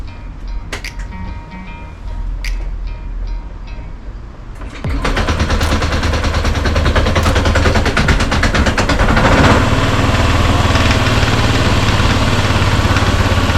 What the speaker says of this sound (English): Alright, so the Honda Scoopy is a fair bit rattly.